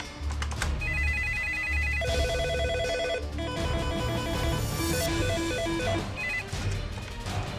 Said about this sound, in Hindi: सीएम योगी का फोन आने वाला है।